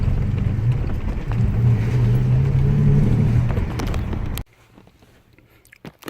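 A 2006 Toyota Tacoma engine that lacks power under hard throttle drones with a low, steady rumble and a faint wavering tone for about four seconds, then cuts off abruptly, leaving a few light clicks and knocks.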